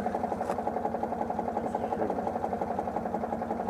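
A Citroën 2CV's small air-cooled engine runs with a rapid, even putter-like pulse, steady and fairly quiet throughout, with no voices over it.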